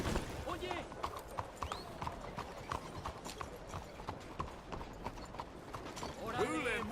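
A horse trots with clear rhythmic hoof clops and a whinny near the end, close and steady, while voices talk over it.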